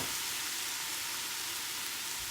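Sake splashes into a hot pan of sizzling garlic and ginger, a steady broadband frying hiss that holds evenly for a couple of seconds, close and moderately loud with no voices.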